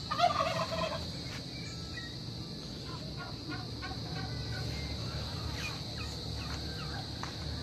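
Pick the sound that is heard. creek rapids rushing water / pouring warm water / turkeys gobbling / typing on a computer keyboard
turkeys gobbling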